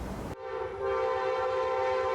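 An Amtrak 91 passenger train with only three coaches sounds its horn at the Plant City train viewing platform, a loud sustained multi-tone blast that cuts in abruptly and holds steady over the rumble of the passing train.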